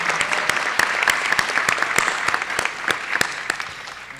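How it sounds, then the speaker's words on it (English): An audience at a school board meeting applauds steadily for about four seconds, a dense roomful of clapping with a few sharper individual claps standing out, fairly close and without talk. "So give them a round of applause, and thank you for coming out tonight."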